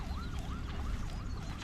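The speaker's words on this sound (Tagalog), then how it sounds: "Ambulansya. Ambulansya." An ambulance siren wails in a rapid, repeating up-and-down pattern, moderately distant over a loud background rumble, with no talking.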